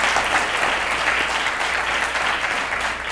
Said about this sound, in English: One more round of applause for all of our Teachers of the Year